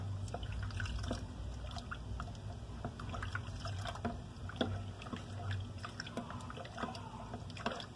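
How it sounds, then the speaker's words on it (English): One cup of broth is poured into a dish of scalloped potatoes, giving faint, close trickling and dripping liquid sounds over a low background hum. "Let's add our 1 cup broth."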